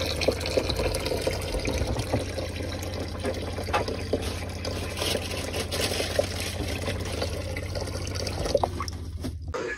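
Water runs into a camper van's tank at a motorhome service area in Fort-Mahon-Plage, a steady liquid filling sound with faint drips and a low pump-like drone throughout, no talking.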